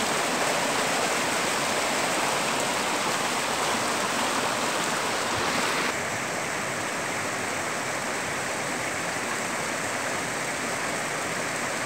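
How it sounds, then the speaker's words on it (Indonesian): A large river in Indonesian nature rushes loudly and continuously, a dense, steady roar of water close by with no voices. "kita sudah sampai di sungai yang lumayan besar ya"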